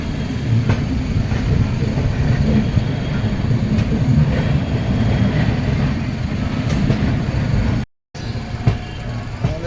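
A train from Kolkata rumbles steadily along the rails, a loud continuous roar with faint clacking, broken by a brief dropout near the end.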